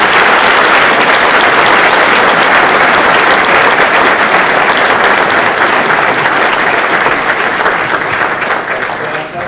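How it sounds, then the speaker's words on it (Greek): Loud, dense applause from a lecture audience welcoming physics professor Dimitri Nanopoulos, sustained and even before fading slightly at the end. "ένα θερμό χειροκρότημα για τον καθηγητή Δημήτρη Νανόπουλο"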